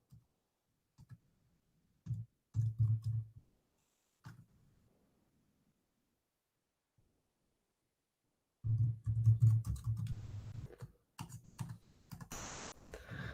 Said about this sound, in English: I'll go ahead and I will type this out